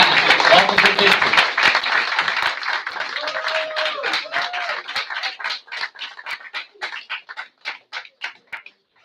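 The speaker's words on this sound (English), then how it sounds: "How about another round of applause for Officer Ahmed, Officer Marola, Officer Clapp, Officer Victor" Crowd at a Pennsauken Township Committee meeting applauds officers, loud dense clapping with voices and cheers at first, then thinning into a few scattered, separate claps trailing off.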